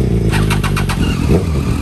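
A motorcycle engine fires up and idles with a loud, close, throbbing rumble, with a few quick pulses near the start before settling into a steady beat.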